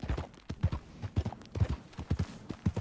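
Horse hooves clip-clop in a steady walking rhythm in the video game Red Dead Redemption 2, with fairly close, moderately quiet hoofbeats alone and no talk.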